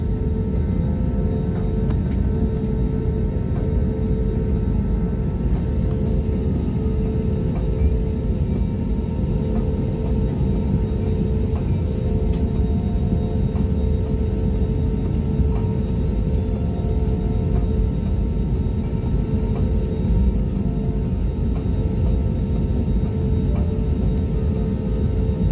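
Steady low rumble of an AirAsia airliner cabin during the takeoff roll, with a constant broadband engine and wheel roar filling the space and no talking.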